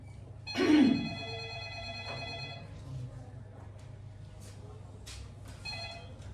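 A telephone rings with a bright electronic tone near the start, followed by quieter repeated ring tones, with a voice speaking faintly underneath.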